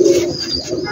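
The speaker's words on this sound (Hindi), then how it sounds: "स्पेशल कबूतर हैं, वो भी इन्हीं की ब्रीड है स्लेटी कमगर" Slate-grey Kamgar pigeons coo loudly and close, a continuous throaty cooing filling a short moment at a large rooftop pigeon loft.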